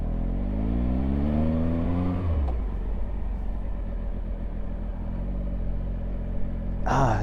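Triumph Speed Triple RS motorcycle engine from 2019 lugging at very low revs around 2000 RPM, a deep loud rumble that dips and shudders with vibration, steady and close, before a brief noise burst at the end.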